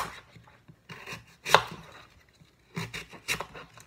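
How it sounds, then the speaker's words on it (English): A knife cuts through an apple on a board while a green smoothie is being made, with two or three crisp chopping strikes and a few softer taps spaced a second or so apart, close and fairly quiet. "Then we cut the apple."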